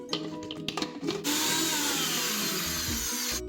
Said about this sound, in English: the last thing we're going to blitz up is our 50 grams of walnuts